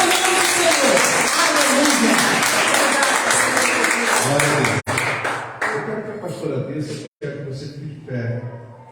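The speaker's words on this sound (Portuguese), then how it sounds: "E as palmas, louvem a Jesus." Church congregation clapping together in praise during a service, dense and loud at first and then thinning into scattered claps with brief gaps and a few voices mixed in.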